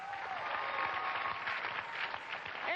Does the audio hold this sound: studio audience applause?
yes